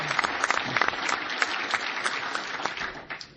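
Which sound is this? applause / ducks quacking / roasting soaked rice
applause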